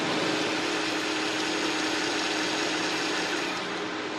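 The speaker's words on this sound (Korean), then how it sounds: "엔진 소음을 먼저 들려드리면은" An export-model car engine idles steadily up close, a smooth, quiet, even hum with a faint high whine and no revving.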